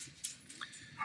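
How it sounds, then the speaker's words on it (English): Dogs bark, yip and whimper somewhere in the background, a few faint, brief, distant calls spread across a quiet stretch. "Sorry for the dogs in the background."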